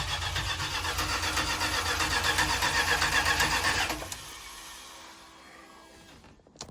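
A remanufactured starter cranks the engine of a vintage RV fitted with fuel injection, a loud, close, rapid churning for about four seconds, then it cuts off into a fading whir with faint clicks.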